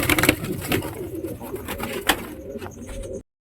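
Pigeons coo inside a pigeon house, with several soft, throaty coos overlapping alongside rustling and small knocks, close by and fairly loud before ending abruptly.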